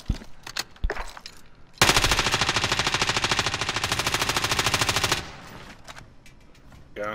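Sustained automatic gunfire from a Call of Duty: Modern Warfare match, a loud rapid burst lasting over three seconds after a few scattered shots, then quieter game noise.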